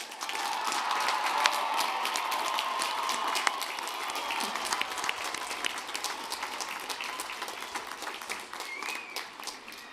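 At a May 2024 graduate and professional commencement, the audience applauds the graduates: many hands clapping in a large hall, loudest at first and then slowly thinning, with individual sharp claps standing out toward the end.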